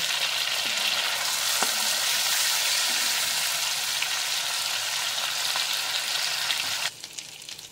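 Shrimp frying in a pan of hot oil give a steady, dense sizzle with a few faint clinks, running close and loud until it drops away abruptly near the end.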